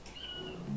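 A cat gives a single short meow, moderately close and clear, over faint background noise.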